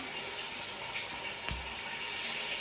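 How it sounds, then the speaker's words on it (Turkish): Tap water running steadily into a basin, a soft continuous hiss and splash at moderate distance with one brief thump midway, first cold then some hot water. "Bakalım hayırlısı soğuk suyu biraz da sıcak su açalım"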